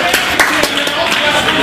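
A single person claps at a wrestling match between Chris Hero and Austin Aries at PWG Uncanny X-Mas 2004. Several sharp, isolated claps ring out at an uneven pace against a steady crowd murmur, and no talking is heard.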